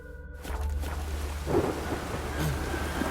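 Thunder rumbles and rain falls during a storm in the video game The Witcher 3: a low, steady roll with a swell near the middle and again toward the end, loud and continuous with no talking.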